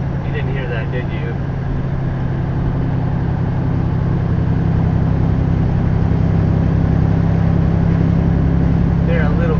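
A Freightliner Cascadia truck's modern, fairly subdued engine brake holds as the rig decelerates, giving a steady, loud low-pitched drone that runs unbroken through the whole stretch.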